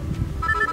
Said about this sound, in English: Hey, that's my phone.